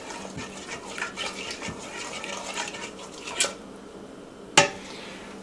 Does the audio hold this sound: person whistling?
no